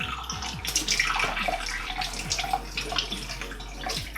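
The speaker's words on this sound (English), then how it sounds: "I'll just give it a bit of a rinse" Running water rinsing a Staresso portable espresso maker, a steady close splash and hiss of tap water with small knocks and gurgles as the device is turned under the stream.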